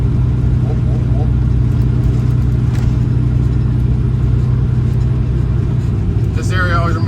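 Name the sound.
truck driving over a bumpy drawbridge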